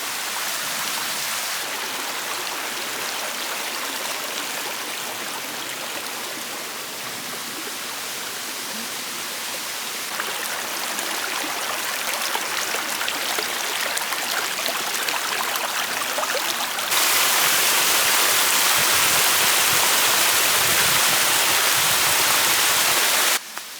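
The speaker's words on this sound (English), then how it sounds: "I hear water." River water flows in a steady, broad rushing roar near a riverside picnic spot on a hike around Linville Falls, loud and continuous, growing stronger toward the end with no talking.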